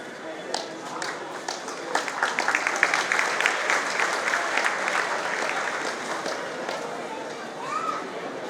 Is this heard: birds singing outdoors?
no